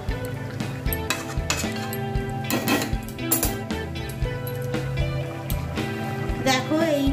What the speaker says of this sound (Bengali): মশলাপাতিগুলো এখনো অ্যাড করিনি, পেঁয়াজের সাথেই ভাজা হচ্ছে।